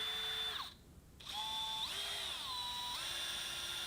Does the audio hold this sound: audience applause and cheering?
no